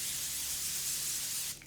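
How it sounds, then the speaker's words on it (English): Laura Mercier Translucent Setting Spray Ultra Blur sprays one continuous fine mist, a soft steady hiss lasting about a second and a half at close range, then cutting off. "This is the Laura Mercier Translucent Setting Spray Ultra Blur. When I bought it, I was like, this is BS, but I love the sprayer on it."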